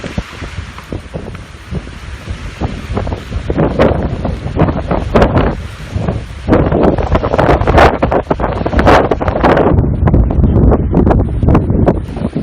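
Strong, gusting wind buffets the microphone outdoors at a black powder rifle range, producing loud, irregular low rumbles and bursts that swell and fade throughout, with no speech.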